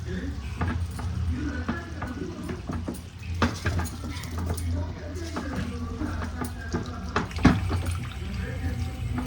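Rice going into a pot of oily chicken biryani base and being mixed, with clinks of a spoon against the pot, soft scraping and stirring, and a voice talking throughout.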